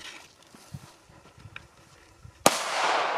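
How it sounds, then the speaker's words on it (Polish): A small retro Polish K0204 firecracker explodes with one sharp, loud bang followed by a lingering hiss, preceded by quiet rustling and faint footsteps nearby. "Nie, no coś zrobiło. Jak taka teraźniejsza petardka, ale no jak na swój rozmiar."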